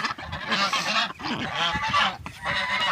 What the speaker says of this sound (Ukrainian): це гусак, здається